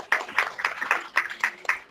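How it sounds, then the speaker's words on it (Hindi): A church congregation applauding in Pakistan, a steady series of sharp claps in an even rhythm, moderately loud and close. "जोरदार तालियां"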